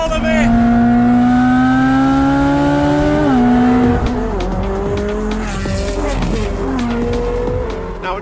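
A Ferrari engine revs high toward 9,000 rpm with the roof off, loud and close, its pitch climbing and dropping through quick gear changes while tires squeal in the background.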